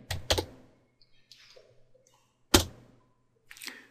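Short bursts of keystrokes on a computer keyboard, a few sharp clicks clustered at the start and middle with quieter taps between, close and in a quiet room.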